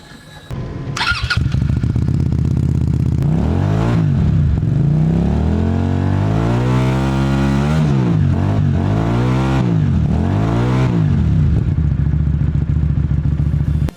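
A Malaysian SRV 250 AMT motorcycle with a 249cc two-cylinder engine starts with a clattering crank, then idles loudly and close up, revving repeatedly in rising and falling sweeps before settling back to a steady idle.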